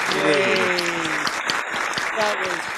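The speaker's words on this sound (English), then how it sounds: "let's give him another big round of applause, everybody" Audience applause on a comedy game show stage: crowd clapping runs throughout, mixed with tonal sounds and voices over it.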